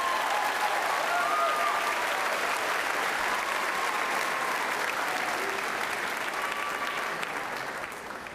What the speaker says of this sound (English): And please give a round of applause to my wonderful ACE class.